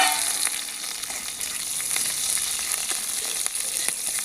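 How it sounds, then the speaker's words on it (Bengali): Oil sizzles and crackles steadily with dried red chillies, nigella seeds and chopped chillies frying in it, a close, continuous spitting sound with occasional sharper pops. "এগুলো একটু ভাজা ভাজা হয়ে আসছে।"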